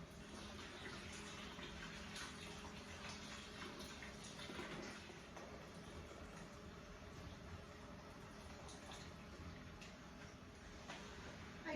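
Tap water running steadily into a kettle, a constant rushing splash that holds at an even level, close by and uninterrupted, with no talking over it.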